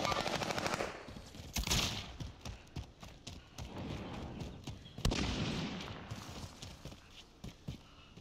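Rapid bursts of video game gunfire crackle through a busy firefight, with dense automatic volleys and scattered single shots rising and falling over about eight seconds, close and loud, with no voices heard.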